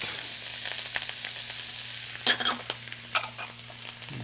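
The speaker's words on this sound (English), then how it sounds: "Gonna add the carrots, the celery, and the garlic." Carrots, celery and garlic frying in a pan give a steady close sizzle under a low hum, with a few clicks and scrapes of stirring.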